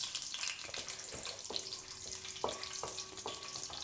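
Whole spices, including cloves, bay leaves, cinnamon pieces and nutmeg, fry in a pan for kushka with a steady close sizzle, and a few light clinks of a utensil against the pan sound over it.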